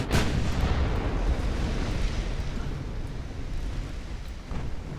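Naval artillery fire in the video game UA: Dreadnoughts, with a sharp initial boom followed by a sustained rumbling roar of distant battle and another faint thump near the end, no talk.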